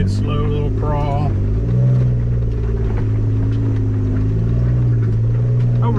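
A Jeep crawling slowly over boulders on an off-road mountain trail, a loud, steady low engine drone and rumble at close range, with a voice speaking over it briefly at the start.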